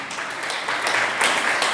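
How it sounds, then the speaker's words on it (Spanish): Applause for Denise fills the whole stretch as a steady, dense wash of clapping from a group, fairly loud and without pause. "un aplauso a Denise"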